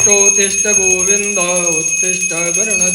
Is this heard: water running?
no